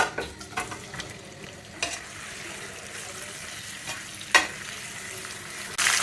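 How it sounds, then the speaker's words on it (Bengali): Soft, steady sizzle of eggs frying in oil and ghee in a pan, with occasional scraping stirs and light clicks, fairly quiet and close. "ডিমগুলিকে একটু ভেজে নেব।"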